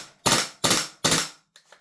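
A Lambda Defence GHM9 Gen2 gas blowback airsoft rifle fires three sharp, loud shots in an even rhythm, followed by two fainter clicks.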